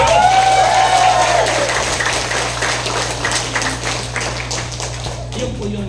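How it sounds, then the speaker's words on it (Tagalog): A church congregation claps loudly and steadily through the whole stretch, a dense wash of applause that fades only slightly toward the end, with a brief spoken voice near the start. "Yung naniniwala, pumalakpak nga ng malakpak."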